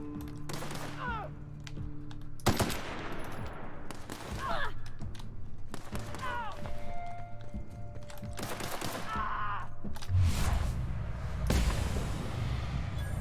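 Heavy guns firing in a shooter video game, The Outer Worlds, bursts of loud sharp shots and impacts spread throughout, layered over a constant game soundtrack and ambient drone.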